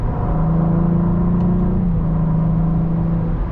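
A BMW M4 or Cadillac CT4-V Blackwing engine holds fourth gear at about 3,000 rpm under light acceleration, a loud, steady droning hum heard from inside the cabin with no talk.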